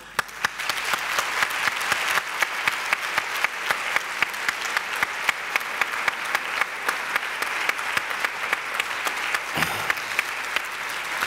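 Sustained audience applause and ovation at a town fair proclamation event, dense steady clapping filling the space for about ten seconds, briefly dipping near the end before resuming.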